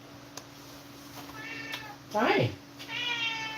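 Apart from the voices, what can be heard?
cat meowing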